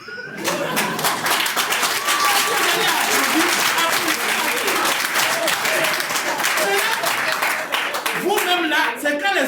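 A product-training audience applauds, loud dense clapping sustained throughout with voices and crowd murmur mixed in, thinning slightly at the very end.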